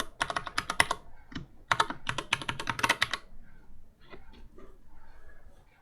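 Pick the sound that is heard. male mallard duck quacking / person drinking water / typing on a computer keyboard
typing on a computer keyboard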